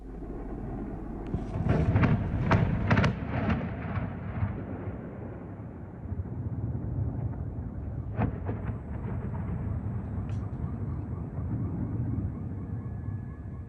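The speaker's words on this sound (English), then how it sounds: "Eyewitnesses captured the explosion as a loud blast rocked the city, sending debris flying." Drone strike on residential buildings in a city, with a deep, rumbling blast and sharp cracks early on, then sustained low roar and wailing emergency sirens in the distance.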